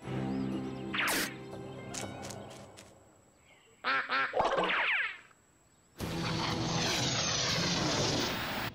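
Several cartoonish duck quacks burst out amid whooshing, boing-like game effects, with a loud noisy rush taking over toward the end.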